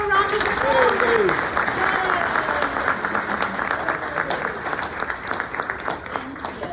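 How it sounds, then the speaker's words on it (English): Audience applause at a community chamber breakfast event, a steady wash of clapping under a voice speaking over it at the start, continuing evenly to the end. "Let's give them all a round of applause."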